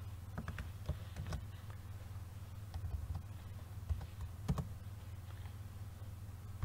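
Code being typed on a computer keyboard while programming a PLC project in XG5000, heard as soft, irregular key clicks at close range over a steady low hum.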